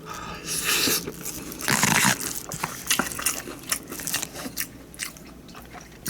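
Someone chews a GS25 convenience-store lunchbox of soy sauce rice with butter and braised beef. The crunchy, moist chewing and biting sounds are close to the mic and repeat continuously, with no talking.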